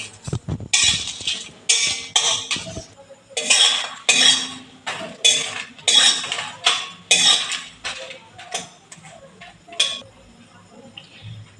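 A metal utensil scrapes and taps rhythmically against a dry pan of roasting spices, steady stirring strokes roughly twice a second, close and fairly loud with no talking.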